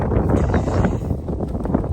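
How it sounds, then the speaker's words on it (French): Strong wind blows outdoors, buffeting the microphone with a continuous low roar and gusty rumble, loud and close, with no talking. "Et je vous parle pas du vent qu'il y a."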